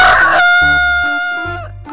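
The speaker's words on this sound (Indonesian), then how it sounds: "ini namanya ayam jantan" A rooster crows once, loud and close, a single drawn-out harmonic call that trails off at the end.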